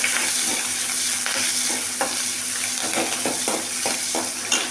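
Mustard seeds, fenugreek and chillies fry in hot oil with a loud, continuous sizzle, broken by stirring scrapes and a few soft pops.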